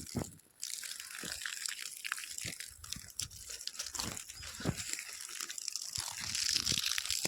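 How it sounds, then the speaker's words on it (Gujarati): Water pours onto onion plants on a rooftop in a steady, close gushing splash with crunchy, crinkling bursts, continuous after a brief quiet start. "તો ડુંગળીમાં પાણી મૂકી દઈએ આપણે."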